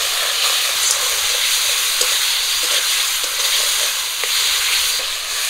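Ground spice paste with turmeric, salt and chili powder frying in oil with reddened onion in a pan, a dense steady sizzle with soft stirring scrapes, close and loud with no talk.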